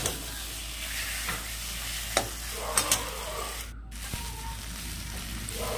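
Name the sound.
stir-frying fish curry with spice paste in pan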